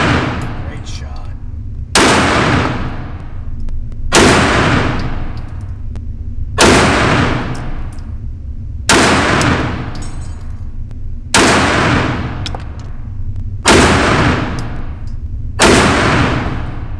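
Pistol fitted with aftermarket Hogue Handall beavertail grip sleeves fires eight loud, sharp gunshots at an outdoor range, evenly spaced about two seconds apart, each ringing out with a decaying echo.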